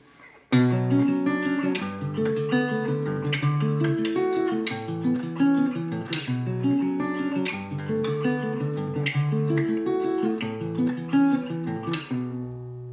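Guitar chords picked in a steady, flowing pattern of separate notes that moves through a progression, clear and close with no talking.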